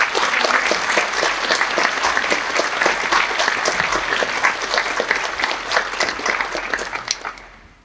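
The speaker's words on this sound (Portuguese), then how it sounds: "Então eu queria agora pedir uma salva de palmas para vocês." A lecture audience gives a loud, sustained round of applause, with many hands clapping in a thick continuous patter that fades out in the final moments.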